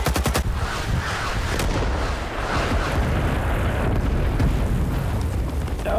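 Rapid gunfire and booming explosions from a Vietnam War shooter game, RS:Vietnam, roar continuously and densely, with sharp cracks of shots layered over a constant low rumble of blasts.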